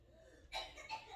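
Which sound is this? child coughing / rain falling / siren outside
child coughing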